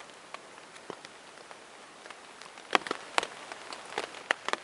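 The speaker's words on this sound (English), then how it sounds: "Raindrops keep falling on my tent" Rain falling on a tent during a canoe camping trip in Algonquin Provincial Park: scattered, irregular drops tapping the fabric close by over a soft background hiss, growing denser toward the end, with no talking.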